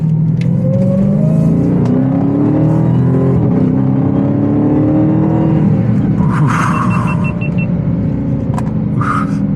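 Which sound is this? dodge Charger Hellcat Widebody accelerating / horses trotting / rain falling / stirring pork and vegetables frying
dodge Charger Hellcat Widebody accelerating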